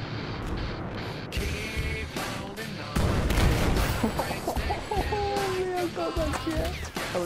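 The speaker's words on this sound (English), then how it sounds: "Hostile machine gun." Gunfire and booming blasts rattle through a Battlefield match, dense bursts of shots and explosions running throughout under excited player voice chat.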